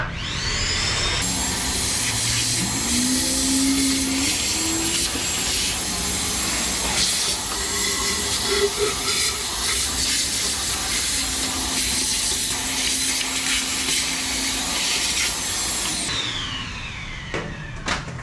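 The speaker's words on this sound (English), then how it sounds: "We should hook the vacuum up to get this stuff vacuumed real quick" A vacuum cleaner roars steadily while cleaning out a 1969 Impala, a loud continuous whooshing hiss with shifting suction tones, starting and stopping abruptly, no voices over it.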